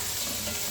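Sliced onion frying in hot ghee with raisins for uppumavu makes a steady, dense sizzle that fills the moment without any voices.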